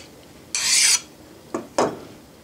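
Hand file rasping across the bottom of a steel vise to knock down high spots: one long scraping stroke, then two short strokes, close and clear with no talk.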